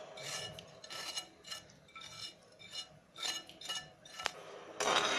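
A spoon stirs homemade tomato sauce sweetened with sugar in a pot, making quiet, irregular scrapes and clinks against the metal, ending in a louder rasping scrape.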